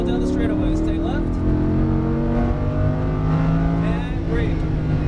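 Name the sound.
Lamborghini Huracán accelerating at full throttle on track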